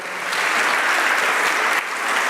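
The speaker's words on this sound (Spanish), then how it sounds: "Dele un aplauso al Señor si usted lo cree." Church congregation applauding during a Spanish-language worship service, a dense, loud, steady wash of clapping from a large crowd lasting the whole short stretch, with no voice over it.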